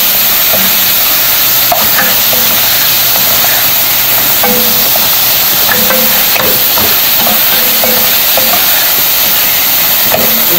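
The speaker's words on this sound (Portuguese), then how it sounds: "eu vou ver a carne aqui, eu vou dar uma selada nela primeiro" Ground meat searing in a hot pan for a bolognese sauce, a loud, constant hiss and sizzle with scattered pops and the occasional scrape of stirring, no voices.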